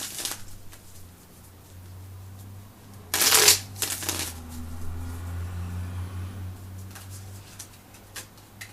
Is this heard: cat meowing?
no